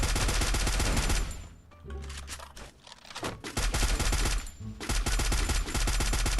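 Battle royale video game gunfire: dense rapid automatic bursts, loud and close, broken by a short lull before the firing resumes in heavy strings.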